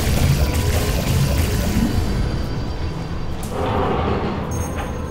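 A dense, continuous rush of flowing water in the puzzle game Portal Stories: Mel, loud and broadband throughout, easing slightly toward the end, with no voices.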